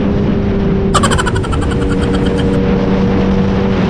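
Several big motorbikes, among them a Honda CBR650, roar past on the road in a loud, continuous rush, with one high-revving engine whining sharply for about a second and a half before fading back into the steady engine noise.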